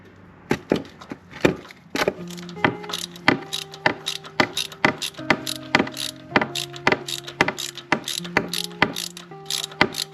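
Ratcheting wrench loosening the oil pan drain plug on a Harley-Davidson FXLRS motorcycle, a rapid series of sharp metallic clicks and knocks repeating steadily at close range with no talking.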